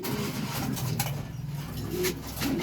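Big king pigeons coo in low, rolling phrases close by, several soft calls repeating steadily with little else around them.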